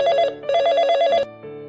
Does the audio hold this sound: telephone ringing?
yes